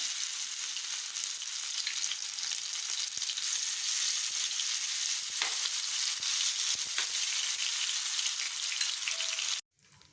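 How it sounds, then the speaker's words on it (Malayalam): Prawns fry in hot oil for a Kerala-style prawn roast, crisping with a bright, steady sizzle and scattered pops. The frying sound is close and continuous, then cuts off abruptly near the end. "അപ്പം നമ്മുടെ ചെമ്മീൻ ഫ്രൈ ആയിക്കൊണ്ടിരിക്കുന്നതാണ്."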